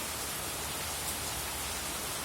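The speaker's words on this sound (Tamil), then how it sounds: "மழை பாருங்க எவ்வளோ மழை, சூப்பராக பேஞ்சிட்ருக்கு மழை." Heavy rain pouring over a garden with fruit and lemon trees, a dense unbroken hiss of falling water at a steady level throughout, with no voices.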